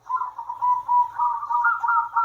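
A zebra dove coos continuously in a steady, hollow rhythm of repeated notes, close and clear with no other sounds.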